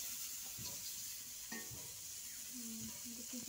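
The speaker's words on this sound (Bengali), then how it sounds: "চলো বন্ধুরা মা এদিকে মাছটা মাছগুলো ভাজতে থাকুক" Fish frying in a pan in a village home kitchen, a steady soft sizzle and hiss running throughout with faint stirring and utensil clinks, fairly quiet and unbroken.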